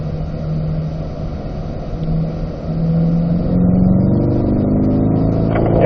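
Chevrolet Corvette C8 engine on a racetrack, loud and close, droning steadily then building as the car accelerates back onto the throttle, with a rising engine note and no voices.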